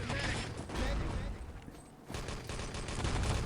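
Bursts of rifle fire and scattered gunshots ring out during a France versus Poland Quake match in an international Nationscup tournament, dense rapid fire with a voice talking over it.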